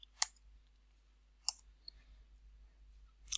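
A few sharp computer keyboard key clicks, spaced apart at a steady pace, as a spreadsheet cell reference is typed in a quiet room with no talking.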